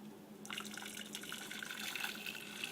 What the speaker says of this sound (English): So Paul, our water is boiled. Just gonna toss it in there